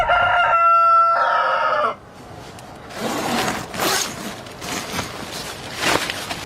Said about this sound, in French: On est avec 3-4 coqs qui gueulent depuis tout le début du matin